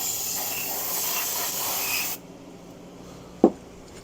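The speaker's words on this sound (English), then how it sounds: "I'll do a spritz on a rag like that, wipe down cases that way." Steady hiss of cleaner being sprayed onto a rag in a workshop during work on a 1972 Harley-Davidson XLCH engine, lasting about two seconds, then quiet and a single sharp knock.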